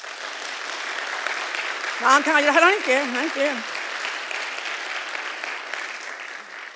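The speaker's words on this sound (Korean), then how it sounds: "아주 열렬히 환영하신 박수를 쳐보세요." Audience applause at a church sermon on God as king, a steady broadband wash of clapping running throughout, with a voice speaking over it briefly in the middle.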